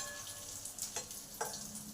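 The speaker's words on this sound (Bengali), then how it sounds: "কাজুগুলো জাস্ট 1 মিনিট ভেজে নেবো, বেশি ভাজবো না।" Broken cashews fry in a pan of oil while making modak, giving a faint, steady sizzle with a couple of soft stirring scrapes, quiet and close, with no talking.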